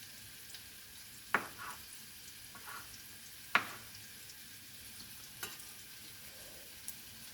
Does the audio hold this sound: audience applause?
no